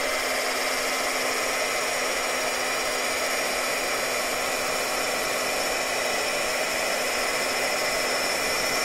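A heat tool blows air steadily over embossing texture on a die-cut piece, a continuous loud whooshing hiss with an electric hum that stays even for the whole stretch, with no talking.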